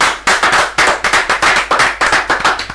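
A concert audience claps loudly and close by, delivering a rapid, sharp run of hand claps in a brisk, fairly even rhythm.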